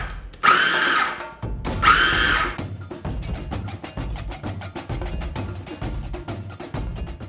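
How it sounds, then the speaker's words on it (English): A food processor pulses soaked black-eyed peas in two loud, whirring bursts, followed by a steady rhythmic chopping and clattering as the motor keeps running. "Pour the peas into a food processor or blender, then pulse until coarse."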